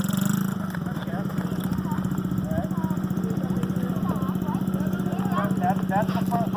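A dirt bike engine runs under light throttle with a steady, loud, buzzing drone throughout, while people talk over it.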